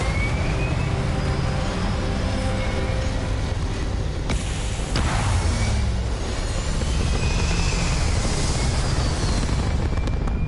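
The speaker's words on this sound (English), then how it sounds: "Prepare for liftoff." Spaceship liftoff in the video game Starfield: a loud, steady engine roar with a heavy low rumble that holds for the whole stretch, plus a brief burst and a whoosh partway through.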